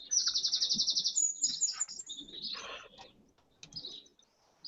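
Small birds chirp nearby, opening with a rapid high trill followed by scattered tweets and calls against a quiet background.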